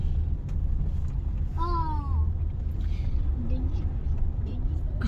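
Car rolling along slowly, a steady low engine and road rumble running throughout at moderate level, with a brief tonal chirp in the middle.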